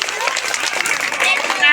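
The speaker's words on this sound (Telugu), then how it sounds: "అందరూ క్లాప్స్ కొట్టండి ప్లీజ్." A music institute audience in Telangana applauds with dense, steady clapping throughout, close and fairly loud, with a few voices mixed in.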